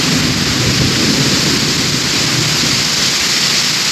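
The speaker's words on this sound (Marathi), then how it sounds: "पूर्ण पाऊस आतमध्ये येतो." Heavy rain pours into a flooded courtyard in a dense, loud, unbroken roar of water splashing on surfaces, with no voices.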